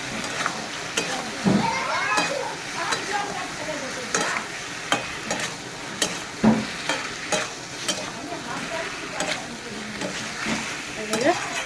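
Ridge gourd sautéing in a pan for a Bengali fish curry, with a steady sizzle broken by repeated scraping stirs and the occasional clink of the spatula, close and fairly loud. No one speaks.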